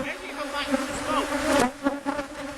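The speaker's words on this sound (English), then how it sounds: "you can see there are plenty of bees flying." Honey bees fly around an opened hive during an inspection, a dense, steady buzzing swarm close by, with individual bees droning louder as they pass near.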